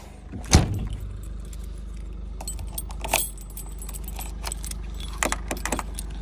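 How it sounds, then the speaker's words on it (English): A set of keys jangles close by with one sharp metallic clink, followed by lighter scattered rattles and clicks over a low, steady hum of a car interior. "I've got my keys."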